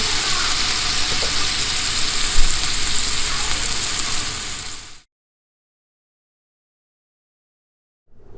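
Food sizzles steadily in heated olive oil in a pan on the stove, a close, even frying hiss that cuts off abruptly partway through, leaving silence.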